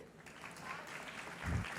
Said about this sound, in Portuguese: Palmas para Jade.